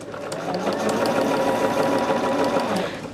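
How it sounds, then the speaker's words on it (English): A sewing machine stitches a quarter-inch seam on a quilted mini charm bag in a fast, continuous mechanical whir with a fine rapid needle rhythm, close and alone. "sewing on that 1/4 of an inch."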